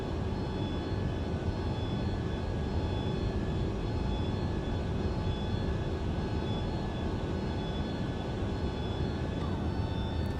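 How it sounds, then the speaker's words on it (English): In the Microsoft Flight Simulator game, an airliner's engines and airflow make a steady, loud broadband roar with faint tonal whines while the flaps extend, continuous and unbroken throughout, with no talking. "I love that flap sound."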